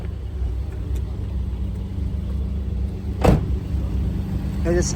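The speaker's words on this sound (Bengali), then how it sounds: "রানিং গাড়ি দেখেন শব্দটা দেখেন ইঞ্জিনের" A running 2013 Toyota Yaris engine idling, a steady close low rumble throughout with a brief louder thump partway and a short whirring sound near the end.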